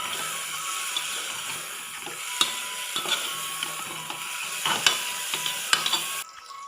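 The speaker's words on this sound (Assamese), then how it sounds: "আকৌ এবাৰ লৰাই ল'ম ভালকৈ।" Jackfruit curry with chilli powder and meat masala being stirred in a pan, giving a close, steady sizzle with repeated scraping clicks from the spoon and no voices.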